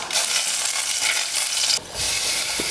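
Mustard seeds, urad dal, asafoetida and dried red chillies fry in hot oil for a rasam tempering, a loud steady close sizzle with a brief dip near the end and no speech.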